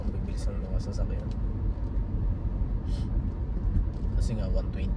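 Fast cars streaming past on a highway with a 100–120 km/h speed limit, a steady broadband roar of traffic with occasional whooshes of passing vehicles, heard under a person talking.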